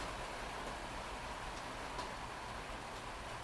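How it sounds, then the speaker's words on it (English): Steady rain falling outdoors over farmland, a soft, even hiss that stays faint and constant throughout with no other sounds standing out. "Much rather hear that rain than a highway."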